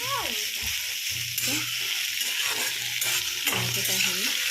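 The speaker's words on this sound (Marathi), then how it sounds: "आता बघा पूर्ण कांदा लाल भाजतो आता." Onions fry in a hot pan with a dense, close sizzle while a utensil scrapes and stirs through them in repeated strokes, and a voice talks over the cooking.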